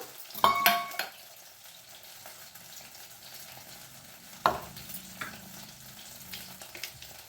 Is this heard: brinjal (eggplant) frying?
yes